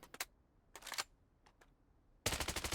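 AR rifle gunfire in the video game BloodStrike: a couple of short bursts of rapid shots, two isolated single shots, then a sustained fast automatic burst closing out, loud and close.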